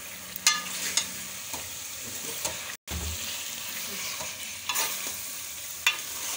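Chicken frying with onion paste and tomato purée in a karahi, a steady close sizzle broken by a few scraping stirs of the spoon and one brief dropout.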